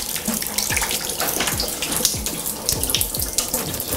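Tap water runs and splashes steadily as conditioner is rinsed out of hair, with uneven gurgling and spattering close by.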